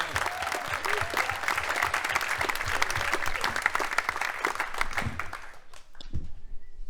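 An audience at a church conference claps warmly to welcome a pastor to the stage, loud steady applause filling the room and then tapering off near the end, with a voice faintly under the clapping.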